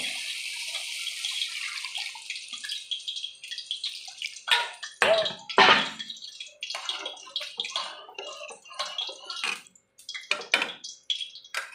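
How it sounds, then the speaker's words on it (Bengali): Water is poured into a pan of spices fried until the oil separates, for a yogurt-based katla fish curry, giving a loud splashing hiss with irregular bursts of pouring and clinking throughout, with no talking. "আমি এবার জল দিয়ে দেবো"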